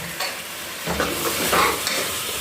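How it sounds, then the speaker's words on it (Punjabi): Potato and eggplant sabzi stirred and frying in a pan, a steady close sizzle with spoon scrapes and stirring bursts running throughout, no voices. "ਆਲੂ ਬਤਾਉ ਵਾਲੀ ਸਬਜ਼ੀ ਅੱਜ ਫਰਾਈ ਕਰਦੀ ਆ"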